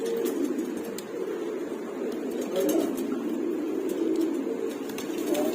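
A flock of about forty pairs of pigeons kept for wholesale sale coo continuously nearby, a dense overlapping murmur of low calls with occasional faint clinks, and a person talks among them.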